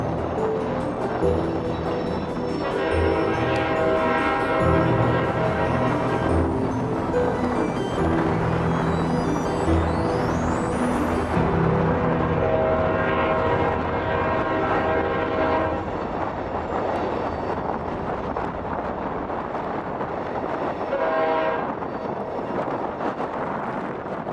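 A southbound Union Pacific manifest freight train rumbles steadily nearby as it departs, its horn sounding in several long blasts, the rolling noise continuing between and after them.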